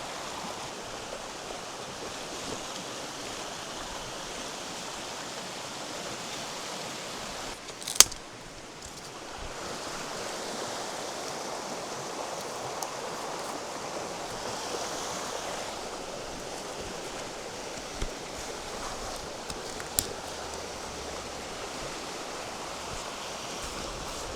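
Cedar Creek flows beside a campsite in Montana, a soft, steady wash of moving water heard from nearby, with a couple of brief clicks and no talking.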